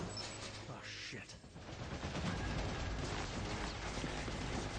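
Rotating turrets open fire in Deus Ex, with dense bursts of automatic gunfire that build to a steady, loud barrage over chaotic game noise.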